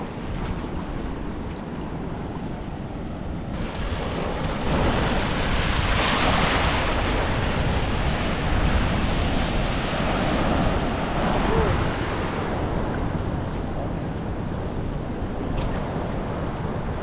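Big ocean waves crash and roll continuously, loud and close, with heavy wind buffeting the microphone.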